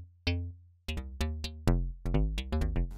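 Synth notes from an unmodified Collision preset in Ableton Live, meant for minimal house: plucked, mallet-like tones with deep low fundamentals and bright decaying overtones, played as a loud, close melodic phrase of about ten notes with no talking.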